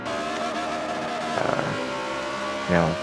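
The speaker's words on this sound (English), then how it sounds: "Over revving the engine a little bit here, going through the sand" A car engine in a racing video game over-revs while driving through sand on the Dubai City circuit, with brief revving surges between longer stretches of steady engine drone.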